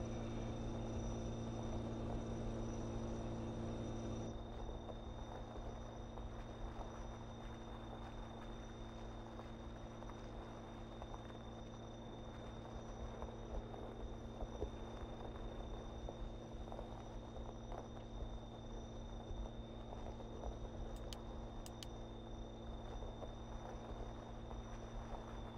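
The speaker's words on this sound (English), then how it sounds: "Nice turbo whistle, it's great." Turbo whistle of a 775E tractor of over 400 horsepower in Farming Simulator 2015: a faint, steady high whine held over a low, continuous engine drone throughout.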